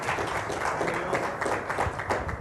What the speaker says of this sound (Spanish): El aplauso es para Dios, a él déselo porque él se lo merece.